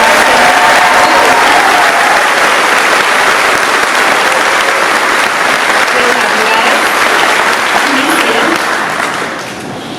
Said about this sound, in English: Please applaud these young men and women.